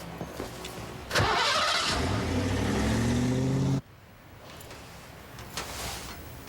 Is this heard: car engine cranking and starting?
yes